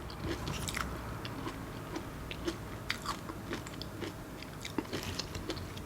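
Someone eats yogurt topped with crunchy granola, giving soft close-up crunches and chewing in irregular bites, with no talking.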